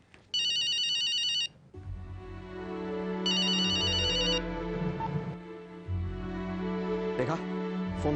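An electronic phone ringtone sounds in two bright, warbling bursts indoors at home, separated by a pause, with low background voices and movement between and after the rings.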